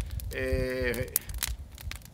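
A single drawn-out cow moo rises clearly for about a second in cattle country, fairly close and loud, then fades into scattered outdoor knocks and rustling.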